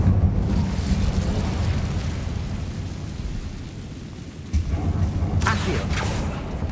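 A fire spell bursts in Hogwarts Legacy gameplay, a loud roaring blast that decays slowly, followed by a second sharp whoosh and crackle; a voice speaks over the effects.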